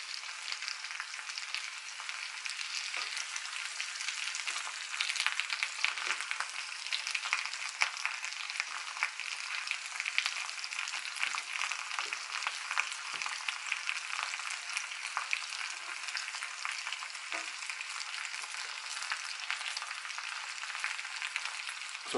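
Sauteed potatoes fry in a skillet with a steady, even hiss throughout, broken now and then by soft scraping taps as they are stirred, and no one talks.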